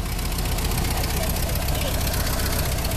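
A Ford Model T engine runs steadily while cruising, a continuous rumbling idle-like chug with dense mid and high-frequency rattle, close and constant throughout.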